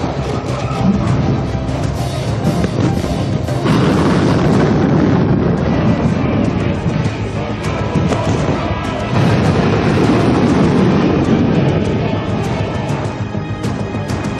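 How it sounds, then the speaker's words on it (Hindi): A Russian Sarmat missile, about 115 feet long, launches from an underground silo with a loud, sustained, rumbling roar that runs through the whole stretch, pulsing slightly, with no talking. "इस 115 फुट लंबी मिसाइल को अंडरग्राउंड साइलो से दागा गया था।"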